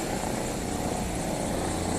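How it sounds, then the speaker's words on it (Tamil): A helicopter flies near the snowy mountains at Kedarnath, its engine and rotor making a steady, loud, broadband roar that holds constant throughout. "அப்படியே ஹெலிகாப்டர் போகுது"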